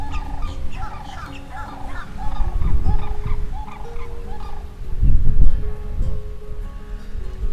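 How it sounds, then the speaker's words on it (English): Birds, sounding like fowl or turkeys, call at Savannas Recreation Area in Florida, with repeated gobbling and honking phrases close by and fairly loud, alone over rustling background. "You hear those birds?"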